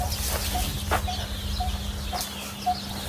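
Chickens cluck in short intermittent calls on a farm, over a steady low hum and background noise, with no talking.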